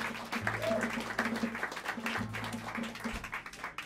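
Small-club audience at Smalls in New York City clapping for guitarist Lage Lund of the John Ellis Quartet, a continuous ragged patter of hands with low instrumental tones and some voices mixed in.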